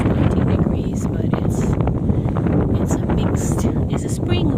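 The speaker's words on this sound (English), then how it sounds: "it's very windy right now" Wind on an outdoor street in Sydney, a loud low rumbling buffet over the microphone that runs throughout, with faint higher chirps and clatters breaking through.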